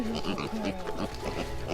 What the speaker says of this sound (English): The pigs have to eat so much.